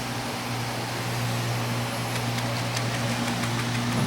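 A mini-ITX print server computer idles with a steady low fan hum and faint electrical whine, close and continuous with no speech.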